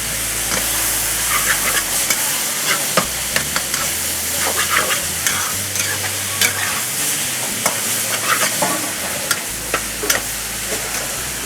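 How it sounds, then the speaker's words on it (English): Marinated meat for chilli pan mee fries in a pan, a loud steady sizzle broken by frequent crackling pops and the scrape of stirring, continuous throughout with no talk. "Make sure you're cooking that until it's all nice and golden brown and cooked all the way through."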